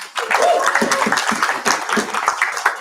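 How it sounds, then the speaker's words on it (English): Audience applause at a hackathon kickoff ceremony, a crowd clapping steadily and fairly close for about three seconds, with bursts of individual claps and light cheering mixed in. "Let's give them a huge round of applause for all that"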